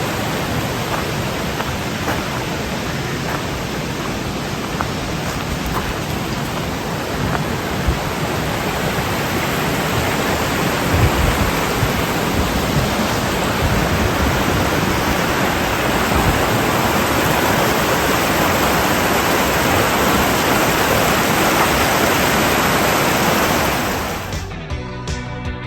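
Water rushes through the Flume, a narrow New England gorge, a dense, steady roar of falling and churning water that holds loud and unbroken until it cuts off at the end.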